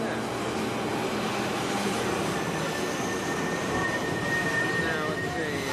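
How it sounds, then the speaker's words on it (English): A Paris metro train ride in 1994 gives a steady, loud rumble of wheels and carriage noise throughout, with a thin high squeal drifting across the second half. "We are on the metro in Paris."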